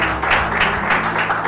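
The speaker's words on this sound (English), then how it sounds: "Another round of applause for today" Audience applause at a church event, a steady dense wash of many hands clapping together, fairly loud and continuous with no voices over it.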